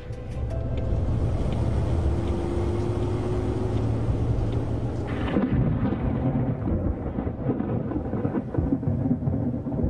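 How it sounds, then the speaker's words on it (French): Afternoon thunderstorm over a small coastal town, a loud sustained low rumble mixed with rain and traffic-like noise, continuous for the whole stretch with no talk. "L'orage de l'après-midi a trempé cette petite commune côtière."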